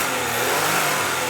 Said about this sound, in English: Okay, so rev up the engine.